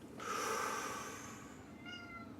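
A kitty lets out a single drawn-out meow, moderately loud and close, trailing off into a faint second call against quiet room noise.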